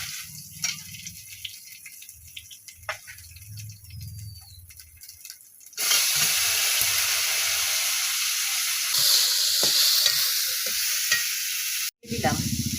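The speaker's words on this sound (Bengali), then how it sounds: "একটু পেঁয়াজ ফোড়ন দিচ্ছি" Chopped onion dropped into hot oil for curry tempering, starting with some low stirring clatter, then a sudden loud, steady hissing sizzle that continues close up with brief scraping.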